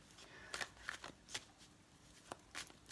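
Quick riffling tarot card shuffles, several crisp bursts of flapping paper spaced irregularly, close and fairly quiet with no talking.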